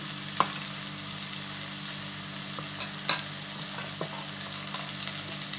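Tomato cooked down with a spoonful of ginger paste fries steadily in a pan for a Bengali shol fish curry, giving a soft continuous sizzle broken by a few sharp scrapes and taps of the stirring spoon.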